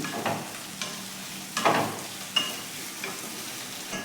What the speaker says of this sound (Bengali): এবারে পেঁয়াজটাকে ভেজে নিচ্ছি